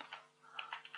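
Quick bursts of typing on a computer keyboard, several light clicking keystrokes close by and quiet, with a short pause between clusters.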